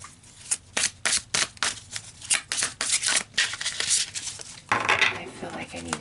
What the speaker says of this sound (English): I feel like I need to do a shuffle.